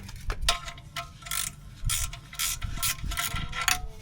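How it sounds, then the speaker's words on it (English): Ratchet wrench clicking in quick bursts while turning 10 millimeter bolts on a VW oil pan, close and crisp with short pauses between strokes. "Just use a ratchet wrench."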